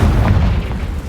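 Confringo spell blast in Hogwarts Legacy, a loud, low booming explosion that rumbles heavily and fades slightly over about a second, with no talking.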